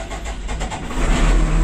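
An XCMG 635 road grader's diesel engine turns over and catches, a steady low rumble building in loudness as it starts and settles, with no talk over it.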